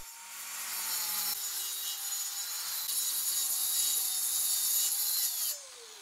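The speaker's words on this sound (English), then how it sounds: "I'm going to rip it down with my track saw, cutting it at roughly 14 inches in width." A track saw rips through a 3/4 inch pine plywood sheet, its motor whining at close range while the blade rasps steadily through the wood, then spinning down as the cut finishes.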